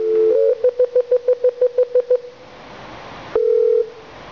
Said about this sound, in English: I can type the access code and then 1 and then dial